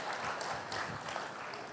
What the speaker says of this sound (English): Chris, एक बार तालियां बजा दो.